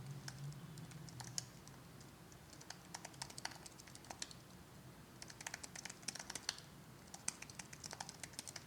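Typing on a computer keyboard: irregular clusters of light key clicks, quiet and close, with no talking.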